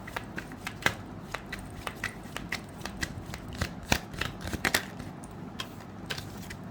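Tarot cards are riffled and shuffled for a reading, producing rapid, crisp papery snaps and flutters in an irregular rhythm, close and fairly quiet with no talking.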